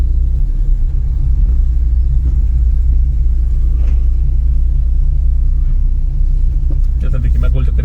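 Car driving slowly around a roundabout in an upscale Delhi neighbourhood, a steady loud low engine and road rumble filling the whole stretch, with a brief brighter clatter near the end.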